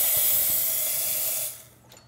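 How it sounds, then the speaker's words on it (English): An espresso machine's steam wand hisses loudly and steadily at close range, then the steam cuts off abruptly and quiet follows. "let's also show that the steam wand is working with no leaks"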